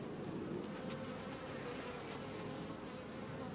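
Honey bees buzz around an open hive, making a steady, dense drone that holds evenly throughout with no pauses.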